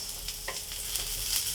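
Onion and ginger sizzle in hot oil in a pan as a base for ginataang tilapia, a steady soft frying hiss with faint stirring scrapes, close and alone.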